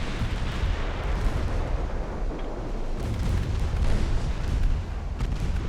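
A battlecruiser's 14-inch naval guns firing in a naval warfare video game, heard as a dense, continuous rumble of heavy booms rolling together, loud and steady throughout with no clear gaps and no talking.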